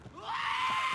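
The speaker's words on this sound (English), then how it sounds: "Those goats keep yelling" Goats scream in a movie scene, a single loud rising bleat that swells and holds steady for most of the second.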